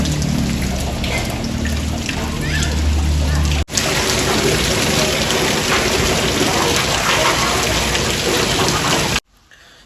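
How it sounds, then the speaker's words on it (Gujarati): Rain falls steadily and close by, a loud unbroken wash of drops with a brief dropout partway through and a sudden drop in level just before the end. "તો અટાણે વરસાદ ચાલુ છે, કારણ કે એટલો બધો વરસાદ છે નહીં."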